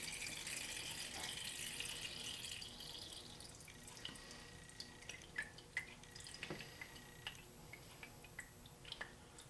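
Clarified butter strained through a fine filter drips into a container, with a soft steady trickle giving way to a run of small, distinct drops, faint and close in a quiet kitchen.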